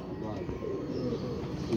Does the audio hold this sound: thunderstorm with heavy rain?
no